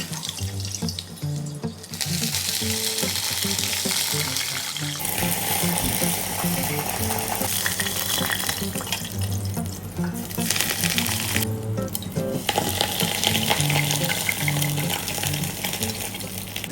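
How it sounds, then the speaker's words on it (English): Steady hiss and sizzle of fish reverse-frying in hot oil in a woodfire restaurant kitchen, a continuous crackling wash that shifts in texture partway through, with no talking. "This is what we call reverse frying."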